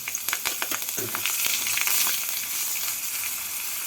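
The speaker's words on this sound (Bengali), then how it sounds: "তেলটা গরম হয়ে গেছে এর মধ্যে দিয়ে দেবো ফোড়ন ফোড়নে দেব দুটো কাঁচা লঙ্কা হাফ টিস্পুন কালো জিরে" Two green chillies and half a teaspoon of nigella seeds hit hot oil for tempering, bursting into loud crackling spits that settle into a steady close sizzle.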